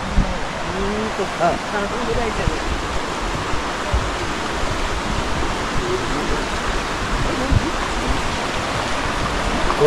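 Steady rushing water of the Konaka River, a tributary of the Watarase River in Japan, fills the clip, a constant broad wash of sound with no break.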